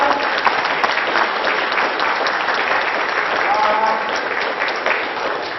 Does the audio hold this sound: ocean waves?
no